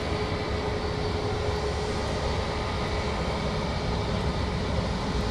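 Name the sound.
Boeing 787 Dreamliner aircraft at Manchester Airport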